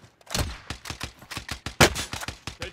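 Rapid bursts of SMG fire in a first-person shooter video game: a string of sharp, close, loud shots in an uneven quick rhythm, with one especially heavy crack near the middle.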